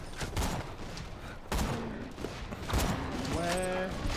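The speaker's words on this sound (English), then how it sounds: "everybody just stand still while I shoot the place" Gunfire in the Borderlands video game, a few sharp bursts of shots standing out over steady game noise and music, with people talking throughout.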